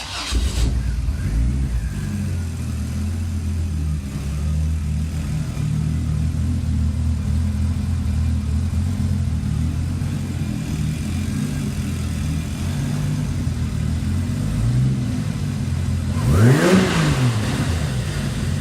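A turbocharged Vortec 4200 engine runs steadily at a loud, close rumble, then near the end is revved in one sharp rising and falling burst.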